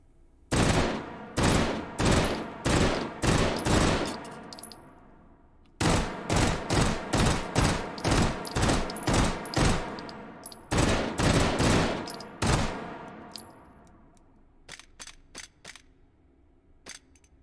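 A Beretta M93R fires in three-round bursts in the virtual reality game H3VR, with loud sharp clustered gunshots repeating in a steady rhythm, followed by a few quieter clicks and taps.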